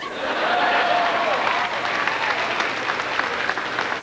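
A crowd applauding at Clinton's campaign headquarters in New York on the night of the April 7, 1992 primaries, sustained dense clapping from a large indoor audience, loud and steady for the whole stretch.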